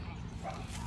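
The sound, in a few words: dogs barking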